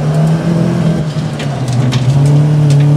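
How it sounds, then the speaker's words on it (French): Tuned Peugeot 206 RC with a remapped engine driven hard, engine droning loud and close as it holds and shifts pitch, with faint tyre noise flickering over it; no talk. "Puis on entend vachement plus les pneus bosser"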